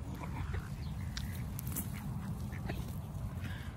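A flock of geese being fed beside the Yellowstone River honks and quacks in scattered bursts over a constant low rumble of background noise, faint and distant, with no talking.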